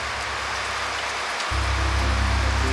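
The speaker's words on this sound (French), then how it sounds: "mais ici ça tombe, il y a de l'orage" Steady rain falls during a thunderstorm in the western Vosges, an even hiss of drops with a low rumble that swells in the second half; no voices.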